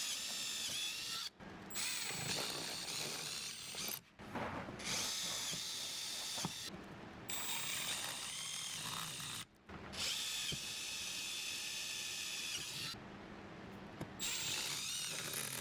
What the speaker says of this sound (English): drill through the body and use 1 1/4 inch screws